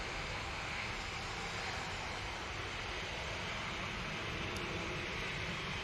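An Emirates A380 airliner produces a steady, broad roar of jet engines, continuous and moderately distant with no clear rise or fall.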